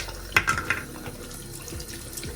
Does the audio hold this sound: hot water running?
yes